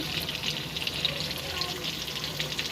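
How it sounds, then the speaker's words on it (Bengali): Marinated chicken pieces deep-fry in a pan of oil, producing a continuous bright bubbling sizzle at close range that stays even and unbroken for a few seconds. "ফ্রাই করছি ডুবো তেলে।"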